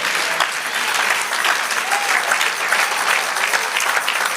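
Steady, full applause from a church congregation praising the Lord, dense clapping from many hands continuing evenly from start to finish.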